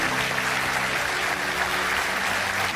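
An audience in a comedy show hall applauds loudly and continuously, a dense wash of clapping filling the whole moment with faint voices underneath.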